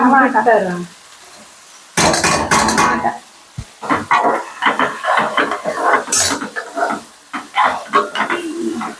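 Cucumber and tomato pieces frying in a pan for a curry give a loud, crackling sizzle, broken by bursts of stirring and utensils scraping against the pan.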